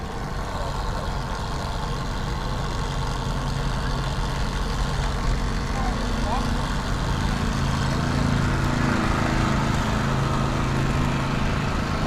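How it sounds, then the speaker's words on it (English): Go-kart engines run at a supermoto track as a steady, loud mechanical drone with constant low rumble, heard from a moderate distance without pause and without talking. "We got go-karts."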